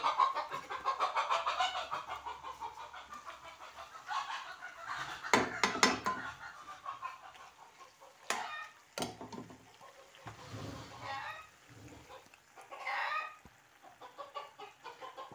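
Chickens cluck and call in a farmyard, a busy run of repeated clucks and squawks with a few sharp cries rising out of it.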